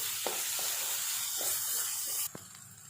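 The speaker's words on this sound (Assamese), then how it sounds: "এই আদা নহৰু পেষ্টখিনি মই 2-3 মিনিটমান ইয়াৰ লগত ভাজি থাকিম" Ginger garlic paste fries with onions in a pan for restaurant-style boiler chicken curry, a continuous close hiss and sizzle with occasional faint taps that drops sharply quieter near the end.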